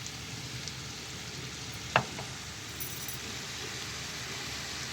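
Mixed winter vegetables being fried in a pan, giving a steady close sizzle throughout with a single sharp clink of a spoon or utensil partway through, no voices.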